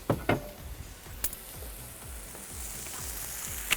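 Chicken cooks in a grill pan with a steady, gentle sizzle, a few light knocks and clicks near the start, heard close and quiet.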